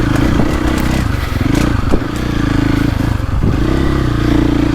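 A 2025 Honda CRF450R or KTM 450SXF Factory Edition, a 60-horsepower 450 dirt bike on a woods loop, holds a loud, steady engine drone with small throttle changes and brief clatter, close and continuous throughout.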